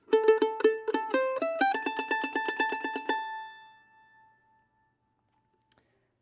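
Mandolin plays a tune's pickup phrase: a quick run of bright, crisp picked notes with a hammer-on, close and clear, then fading to silence with one faint tap near the end.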